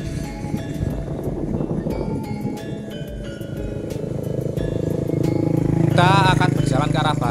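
A clutch (manual-gearbox) motorcycle is ridden along village roads near Dompiongan and Kaliworo in Central Java, close to the Jogja–Solo toll road works. Its steady engine drone rolls on throughout, loud and close, beneath someone talking.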